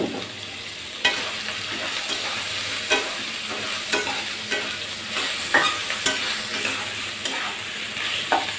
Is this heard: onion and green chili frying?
yes